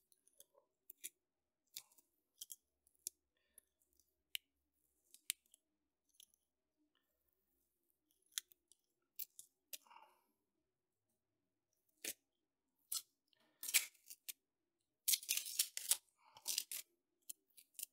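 Tape being peeled and unwound from a hand-cut lock key, heard as scattered close crinkles and sharp tearing ticks that grow denser and louder toward the end, with no talking.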